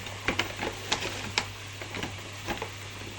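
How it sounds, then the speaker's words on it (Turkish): A spooned-in cleaning mixture fizzes and bubbles inside a burnt kettle, heard as faint, irregular crackling pops and ticks over a low steady hum, close by and without talk. "Bakın nasıl da foşur foşur kaynatı verdi."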